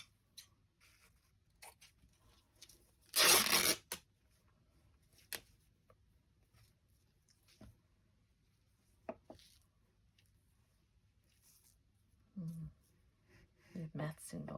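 Scissors snip a small strip of material for a soft-palette craft project, giving a brief loud cut among scattered quiet clicks and handling sounds, with a few more snips near the end.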